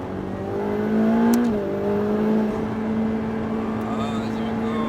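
A V8 biturbo engine in a racing video game sits in a steady, droning pull on the circuit at Mirevel, swelling slightly as it revs, with people talking over it.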